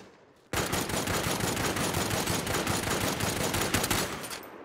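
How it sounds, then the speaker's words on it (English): Explosive-round gunfire from the video game Army of Two: The Devil's Cartel: a loud, unbroken burst of rapid automatic fire that starts suddenly and rattles on for about four seconds before easing off. "Explosive rounds are a bitch."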